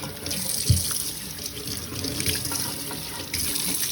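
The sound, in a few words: tap water wetting a rag at the sink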